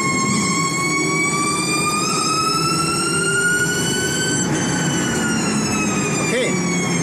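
Hyundai RM20e electric car's single-speed gearbox and drivetrain give a loud, steady, siren-like whine, rising smoothly in pitch as the car accelerates.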